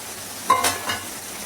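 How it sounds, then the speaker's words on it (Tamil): Puli kuzhambu powder and ground coconut mixture being stirred, a couple of short scraping swishes close by against a quiet background. "ஊற்றி எல்லாத்தையும் நல்லா கலந்து வச்சுக்கலாம்."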